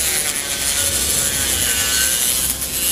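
A tool trims a styrene plastic scaffold part for a Kotobukiya model build, producing a steady, close, abrasive rasping scrape that runs without pause and without talk.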